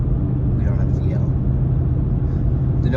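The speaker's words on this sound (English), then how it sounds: "The noise you're hearing now is the tires." Steady road noise from used tires on a car with engine knock, heard from inside the moving vehicle as a constant low rumble and hum that fills the whole stretch without pause.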